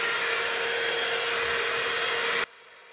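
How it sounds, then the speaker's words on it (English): T3 AireBrush hot air brush dryer blows with a loud steady whooshing fan roar, close up, then cuts off abruptly near the end, no voices. "It feels a little bit like the fan is blowing stronger"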